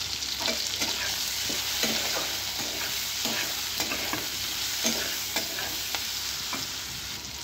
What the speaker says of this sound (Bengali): দেবো আমটাকে ফ্রাই করে নেব একটু